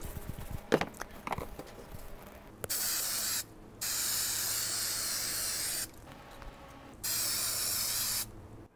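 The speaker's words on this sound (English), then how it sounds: "Then I'll use the spray adhesive on the felt itself and press it onto the fabric." Spray adhesive hisses onto felt for a fabric mouse pad in three close, loud, steady bursts, the middle one longest, with faint handling noise before the first.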